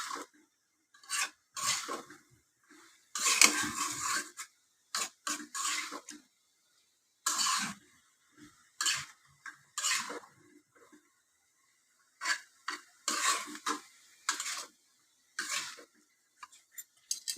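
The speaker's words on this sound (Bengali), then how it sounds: "এই তো ডাটাটাকে কষিয়ে নিচ্ছি।" Vegetable stalks are stirred and pressed in a pan over heat, giving intermittent bursts of spatula scraping and metal clinks separated by short silences, close and fairly loud, with no voices.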